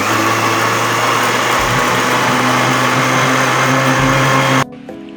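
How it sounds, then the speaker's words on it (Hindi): A blender grinds peaches with water into juice, its loud steady whirring motor running continuously before cutting off abruptly near the end. "जूस को अच्छे से ग्राइंड करना है।"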